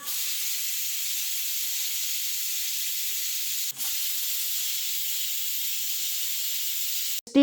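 A pressure cooker on a gas stove vents steam in a strong, steady hiss that runs continuously for several seconds. The hiss drops out for a split second midway, then resumes until a brief clatter at the end.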